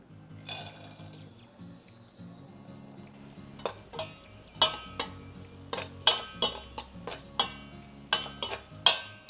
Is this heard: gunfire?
no